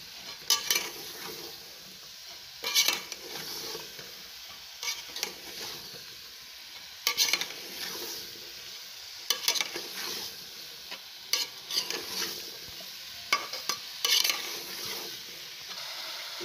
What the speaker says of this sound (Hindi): अब ये मैं मिक्स करूँगी, इसमें पानी निकलता है थोड़ा